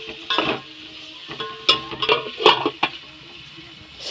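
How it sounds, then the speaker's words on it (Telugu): Onions frying in a pan are stirred with a utensil, giving a soft sizzle under several short scraping bursts that come in quick irregular strokes, near and moderately loud. "వీటిని ఇప్పుడు మనం ఇలా ఇలా ఇలా ఇలా తిప్పేసుకొని మూత పెట్టేసుకుందాం కాసేపు."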